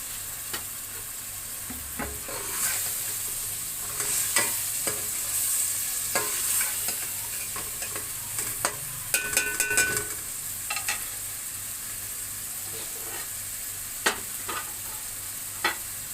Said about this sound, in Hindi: ये देखें, ये हमारा चिकन बुनाई हो रहा है